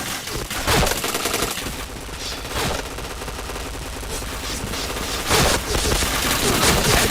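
Gunfire in the shooter game Point Blank comes in dense rapid bursts with a few louder shot clusters, loud and close over a busy game soundscape.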